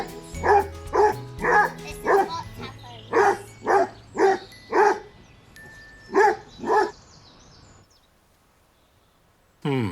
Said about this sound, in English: I think Buster the Basset Hound has stolen the show